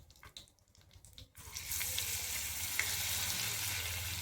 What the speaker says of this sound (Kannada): ಇವಾಗ ಬೆಳ್ಳುಳ್ಳಿ ಹಾಕ್ಲಕತ್ತೀನಿ ರೀ ಎಣ್ಣೆಯಾಗ